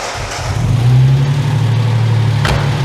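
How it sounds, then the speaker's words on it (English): A Ford Capri MK1 carburetor engine that sat for eight years revs as the throttle is pumped, rising to a loud steady roar after a brief rough start, close by with no talk. "If we now pump the throttle a couple of times, you'll find it'll probably run faster"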